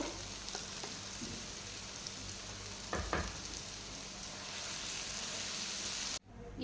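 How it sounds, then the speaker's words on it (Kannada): Dover sole fish fries in oil with leftover marinade masala, a constant crackling sizzle with a couple of brief louder spatters midway and a sudden drop near the end, close up and without speech. "ಈಗ ಅದಕ್ಕೆ ನಾವು ಮ್ಯಾರಿನೇಟ್ ಮಾಡಿ ಉಳಿದ ಮಸಾಲೆ ಉಂಟಲ್ಲ ಅದನ್ನು ನಾವೀಗ ಹಾಕ್ಕೊಳ್ಳೋಣ ಹಾಗೂ ಇದನ್ನು ಚೆನ್ನಾಗಿ ಫ್ರೈ ಮಾಡ್ಕೊಳ್ಬೇಕು"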